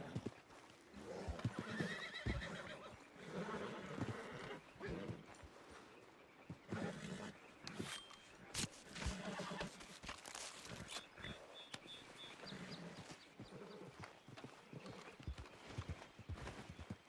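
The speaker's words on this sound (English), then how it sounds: "I'll bring my horse over." Horse in the Red Dead Redemption video game whinnying and stepping on hooves during a Wild West roleplay, moderate and intermittent amid game ambience and other sounds.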